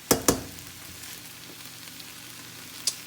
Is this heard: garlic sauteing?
yes